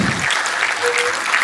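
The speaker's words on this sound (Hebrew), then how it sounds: "תמחאו כפיים." Audience at an award ceremony for a charity organisation claps steadily as an honoree walks up, a dense patter of hands throughout with no talk.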